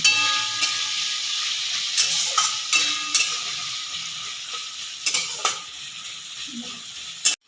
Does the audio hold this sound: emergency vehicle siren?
no